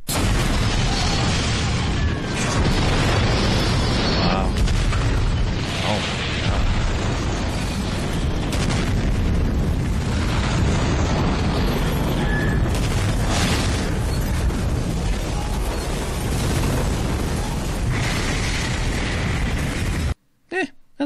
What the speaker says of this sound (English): A decent CGI explosion.